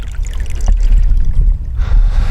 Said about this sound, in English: Nothing makes a beaver more mad than running water on a dam